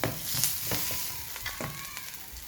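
Onions sizzling in a pan while cooking Nigerian meat pie filling, a continuous close frying hiss with occasional soft stirring knocks, no speech over it.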